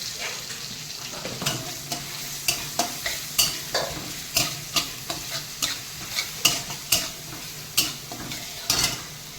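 Panch phoron, dried red chilli and garlic hit hot oil and sizzle steadily, broken by a regular series of sharp clacks from a spoon stirring against the pan.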